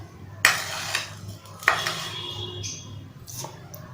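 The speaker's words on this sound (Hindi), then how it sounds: "अब मैं इसके अंदर डालूंगी 2 टेबलस्पून शुगर" A few sharp clinks of a spoon against a pan as two tablespoons of sugar go into orange juice for jelly, with faint scraping and a low hum in between.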